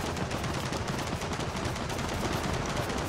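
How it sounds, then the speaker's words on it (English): Dense, continuous gunfire from enemies in Gears of War 4, a steady rattling barrage filling the whole moment with no pauses and no voices. "When he stops shooting, run."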